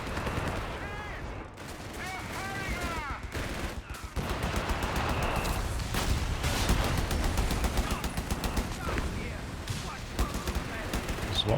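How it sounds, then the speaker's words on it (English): Machine guns rattle in dense, continuous bursts under booming artillery in a Company of Heroes 3 battle on the Longstop map, with someone talking over the loud, layered din. "There's a lot of machine guns, a lot of flares, a lot of artillery through the middle of the map."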